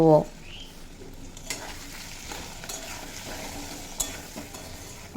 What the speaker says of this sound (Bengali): পরিমাণ মতো হলুদের গুঁড়ো সামান্য জিরে ও ধনের গুঁড়ো দিয়ে ভেজে নেব